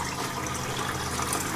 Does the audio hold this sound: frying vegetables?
no